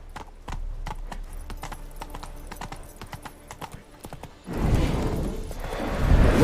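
Horse hooves clip-clop at a steady trot in The Witcher video game, fairly close and clear for several seconds before a louder broadband rush of ambient noise takes over near the end.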